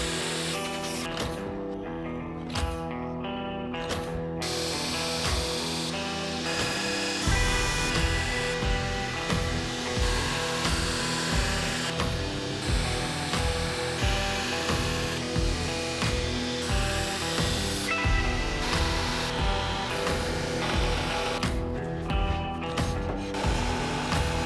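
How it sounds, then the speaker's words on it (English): Sustained, loud whirring grind as a distal taper is ground onto a bollock dagger blade, with a steady motor tone and shifting abrasive hiss, close and continuous with no talk. "I'm grinding a distal taper."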